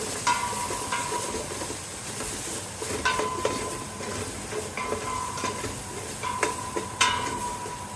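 Dried ginger cooking in a pan for ramen soup gives a steady close sizzle, with a spatula scraping and stirring at irregular moments, sharp clinks ringing out now and then.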